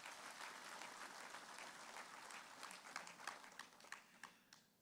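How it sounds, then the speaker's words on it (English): An audience at a public lecture for the 2024 SADC Summit claps together, a soft, steady patter of many hands that thins into a few scattered, separate claps as it fades out. "Let's give him a round of applause."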